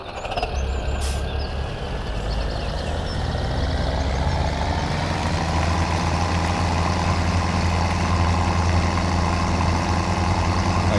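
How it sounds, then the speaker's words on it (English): A tractor drives in the video game Farming Simulator 17, its heavy diesel engine droning loudly and steadily throughout with a deep low rumble and a faint rising whine. "So I do have to take the other tractor up real quick"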